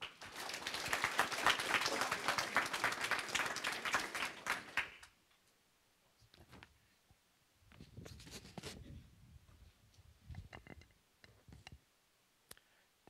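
Audience applause welcoming two speakers to a debate on the new cholesterol guidelines: dense, close clapping for about five seconds that stops abruptly, followed by sparse scattered claps and room noise.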